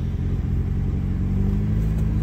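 An Austin Morris Ital's engine runs right after starting, a loud, close, steady low rumble with a slight rise in revs, no voices over it.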